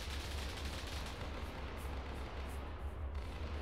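Constant gunfire during a combined-arms battle in ArmA 3, a dense, continuous roar of shots with no pauses.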